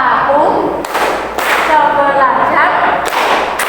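A classroom of students claps the 'tepuk fokus' ice-breaker rhythm: sharp, loud claps in separated bursts, with chanting voices between them.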